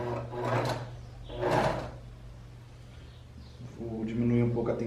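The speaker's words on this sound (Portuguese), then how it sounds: "Agora com um ponto mais largo da máquina, a gente vai passar uma costura aqui, franzindo." A domestic sewing machine runs a long, wide gathering stitch on a blouse with puff sleeves, whirring in short bursts close by between stretches of someone speaking.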